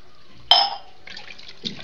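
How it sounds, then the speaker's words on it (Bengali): Water is poured into a cooking pot of beef trimmings, a short splashing burst that fades, followed by a brief softer splash, close by and without talk. "এখন এর সাথে পানি দিয়ে দিচ্ছি।"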